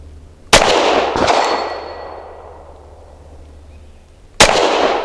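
Two sharp, loud shots from a Tisas Night Stalker 1911 pistol firing 230-grain steel-case ammunition, about a second apart, each ringing out with a long decaying tail, then a third crack near the end.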